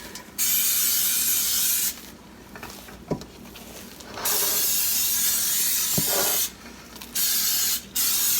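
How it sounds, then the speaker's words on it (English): Cooking oil spray hisses onto cinnamon roll dough in several bursts of varying length, close and loud, separated by brief pauses with faint handling taps. "I'm going to add some more spray."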